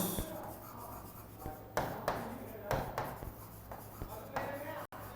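Pen writing by hand on paper makes scratchy strokes in short bursts, close and moderately loud over a low background hum, with no talk in between.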